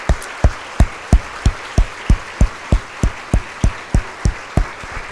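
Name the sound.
church congregation applauding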